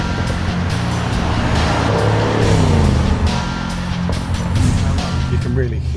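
A car engine in dynamic drive mode, running loud and steady with a rising and falling tone, heard from the cabin under a man's speech.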